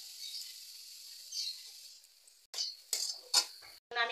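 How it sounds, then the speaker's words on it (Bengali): Grated coconut goes into a kadai (wok) and is stirred, making soft hissing scrapes followed by several short, sharp metal scraping bursts near the end, faint and close with no voices. "এবার আমি নারকেলগুলো কড়ার মধ্যে দিয়ে দিচ্ছি"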